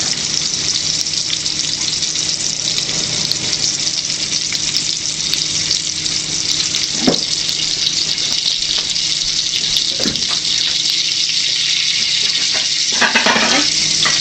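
Flower blossoms fry in a pan with a steady, loud sizzle that holds throughout, with a few brief spatula scrapes or stirs.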